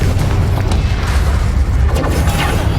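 A Confringo blasting spell goes off in the video game Hogwarts Legacy, a loud, dense booming rumble that lasts throughout without pause.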